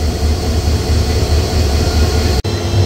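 The Upaban Express from Sylhet rolls into a Bangladeshi station with a steady low rumble and grinding of wheels on rails, loud and close, with a brief sharp break near the end.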